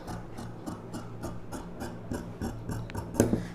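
Scissors snipping a round front neckline into blouse fabric: a quiet, close series of short regular cuts, about three per second, ending in a slightly louder snip.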